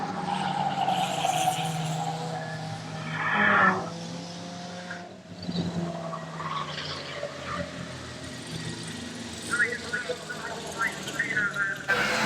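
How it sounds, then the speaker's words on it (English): Stock cars circulate on an oval track at a race meeting as the checkered flag waves for the winner, engines droning with a brief surge and tire noise over a commentator talking throughout. "The checkered flag is waving for the winner, Mike Savino,"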